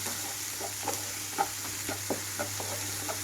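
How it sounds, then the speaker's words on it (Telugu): Finely chopped onions fry in a pan for an aloo chikkudukaya curry, giving a soft steady sizzle with light spoon-stirring scrapes that tick at irregular intervals under a constant low hum. "ఇక్కడ ఉల్లిపాయలు కొంచెం కలర్ మారే వరకు వేయించుకుంటున్నాను"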